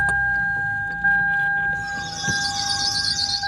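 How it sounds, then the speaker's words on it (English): A car starts up after its EGR valve is cleaned, the engine catching and settling into a steady idle with a high belt squeal whining over the running motor. "Now let's start the car up"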